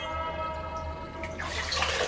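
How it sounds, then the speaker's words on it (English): Water splashing at a raised round stone pool, a soft wet wash and trickle building in the second half over a steady low hum, close and fairly quiet, with no voices. "Zayd splashed water on his face at a raised round pool"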